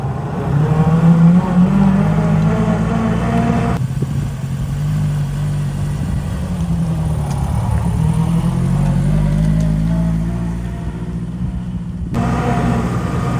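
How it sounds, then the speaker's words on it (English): A 1930s Lancia Aprilia with a little V4 engine pulls away from a standstill, its motor revving up through first gear with a steady, jolly mid-pitched drone, loud and close, then dropping as it shifts. "the little V4 engine fires into life and sounds very jolly about life"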